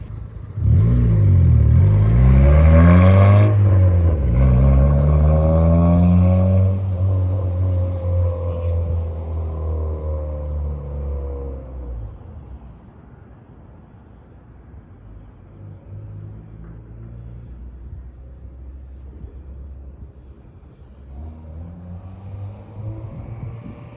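Turbocharged Honda Civic with an aftermarket exhaust driving past, a loud engine roar and rising-then-falling drone swelling as it passes close and fading into a distant rumble.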